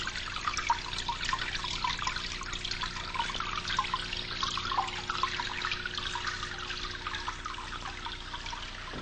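Water trickles and spatters over Isamu Noguchi's carved Water Stone, a steady, close, gentle burble with a fine splashing texture that goes on evenly and alone, with no voices.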